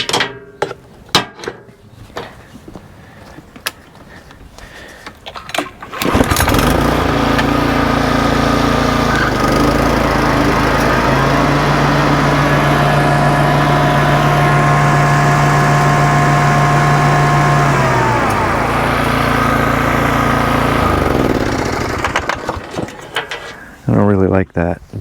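A Toro Time Master lawn mower with replaced idler pulleys and a loose belt starts after some knocking, then its engine runs loudly and steadily at close range for most of the clip before cutting off.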